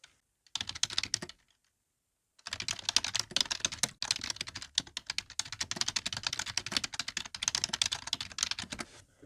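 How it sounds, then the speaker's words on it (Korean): Rapid typing on a wireless keyboard connected to an iPad, a dense run of light clicky keystrokes with a short pause near the start, close and clear. "이 아이패드에 키보드를 연결했을 때 반응 속도가 궁금하실 수 있는데 지금 제가 한번 쳐볼게요"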